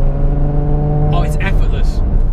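A Ferrari F12 TDF V12 running with its exhaust valves open at light throttle gives a deep, continuous rumbling hum, while a person talks over it in short bursts.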